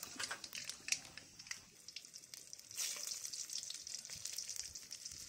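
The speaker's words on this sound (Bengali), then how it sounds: "দিয়ে দিচ্ছে গোটা পাঁচ ফোড়ন" Whole five-spice seeds with bay leaf and a pinch of sugar crackle in hot oil in a kadai, a faint, soft sizzle dotted with tiny pops.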